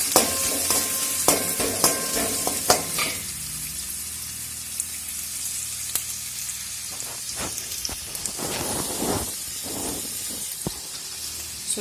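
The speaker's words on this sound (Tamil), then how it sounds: "வெங்காயம் நல்லா வணங்கட்டும்" Onions fry in a pan with a dense continuous sizzle, a run of sharp taps from stirring at the start, then steady crackling and hissing close by with no voices.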